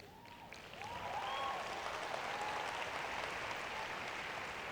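Crowd at a live motivational talk in Toronto breaking into steady, sustained applause, a dense wash of clapping that swells and holds at a fairly even level, with a few whoops over it.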